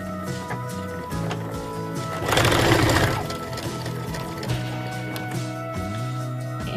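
Sewing machine stitching a fabric drawstring bag, running in short bursts with pauses and a louder rattling stretch in the middle, close and fairly loud.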